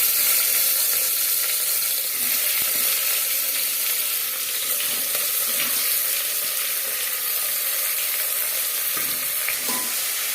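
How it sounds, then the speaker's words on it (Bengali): Chopped onion and tomato frying in hot oil with a bay leaf for mutton kosha, a dense, even sizzle with occasional light stirring taps, no one talking. "তেজপাতা 15-20 সেকেন্ড ভেজে নেওয়ার পর দিয়ে দেবো পেঁয়াজ কুচি আর টমেটো"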